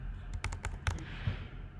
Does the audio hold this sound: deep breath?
no